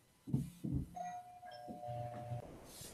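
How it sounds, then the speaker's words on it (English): A two-tone doorbell chime rings out clearly in an indoor room, with sustained ding-dong tones ringing on for a couple of seconds, preceded by a few soft knocks or thumps. "Doorbell."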